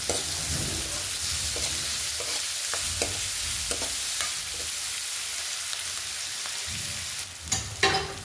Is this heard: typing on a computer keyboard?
no